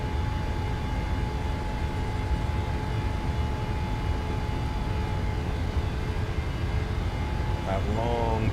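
A PMDG 737-800 on its takeoff roll from Colorado Springs in Microsoft Flight Simulator, jet engines holding a steady loud roar with a constant whine and rumble throughout.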